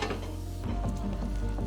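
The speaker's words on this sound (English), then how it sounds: "your garlic was frying off nice and gentle." A soft, steady sizzle of garlic frying gently in a pan, with a few light utensil scrapes and stirs close by.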